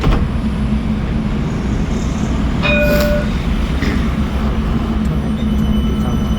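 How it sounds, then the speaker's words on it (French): Alstom trams crossing on the rails at Hauts du Chazal, a loud steady rumble of wheels and motors filling the scene with a brief high squeal near the middle, continuous and close with no talk. "ça c'est formidable de voir les trams du Sargon"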